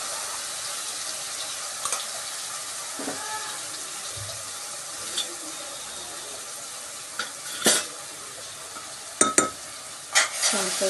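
Ground masala paste with curry leaves being stirred into a frying curry in a pan, a steady close sizzle with scattered scraping and knocking strokes of the spoon that grow more frequent toward the end, no talking.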